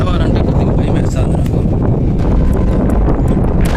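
Strong wind on a high, exposed, open spot beats steadily against the microphone as a loud, unbroken roar, with a voice faintly underneath.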